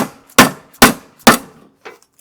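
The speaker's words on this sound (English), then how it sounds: "put them on the side of your bench, go back to your dead blow hammer" Three heavy, evenly spaced dead blow hammer strikes on metal ring out sharply, followed by a fainter fourth strike, each with a short metallic decay.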